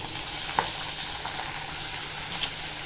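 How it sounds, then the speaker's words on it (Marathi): Bitter gourd tossed in hot oil with garlic, green chilies and curry leaves in a pan, giving a soft continuous sizzle with a couple of faint stirring knocks, no voices. "कारलं टाकल्यावर चांगलं असं परतून घ्यायचं तेलामध्ये"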